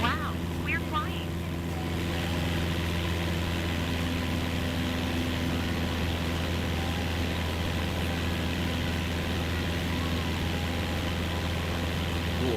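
Steady droning engine of an airplane in flight in a video game, a constant hum with strong low tones held throughout, with brief chirpy sounds near the start.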